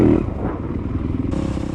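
A Yamaha dirt bike races an enduro woods test at the Unadilla sprint enduro, its engine buzzing close and loud with a rapid, pulsing rev and some rattling clatter.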